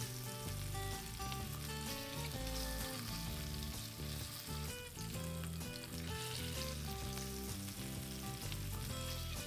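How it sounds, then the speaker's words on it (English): Paneer shallow-frying in hot oil, a dense continuous sizzle and crackle heard close and steady, with tonal lines running alongside it throughout. "The oil has heated well and now I am adding in the paneer. Let it get shallow fried from all the sides."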